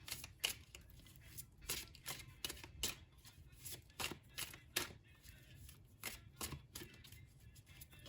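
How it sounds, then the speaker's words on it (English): Tarot-style advice cards are shuffled and flipped in a quiet room, giving a run of quick, crisp papery snaps and riffles at irregular intervals, close but soft. "let me pull 2 advice cards from your future self for pile 1"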